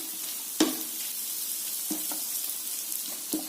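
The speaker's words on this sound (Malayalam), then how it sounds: "കുരുമുളക് ഇട്ട് ഇളക്കി ഇങ്ങനെ ഡ്രൈ ആയിട്ട് വരുവോളം ഇളക്കി" Beef fries with black pepper in a pan, stirred until dry: a steady sizzle runs throughout, broken by a few sharp scrapes of the spoon against the pan.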